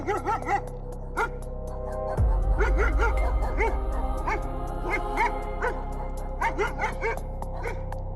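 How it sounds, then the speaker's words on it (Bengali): Several dogs in a village yelping and barking in frantic bursts, whimpers and howl-like cries layered over a low rumbling drone, loud and continuous. "গ্রামের কুকুরগুলো পাগলের মতন চিৎকার করলো।"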